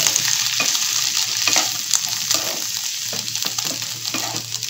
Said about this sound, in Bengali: এবার আমি এটা অল্প করে একটুখানি ভেজে নিই।